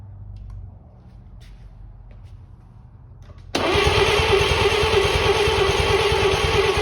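An 80-year-old Chevrolet 216 six-cylinder, long dead and choked, cranks briefly then catches and roars into a loud, steady running idle close by.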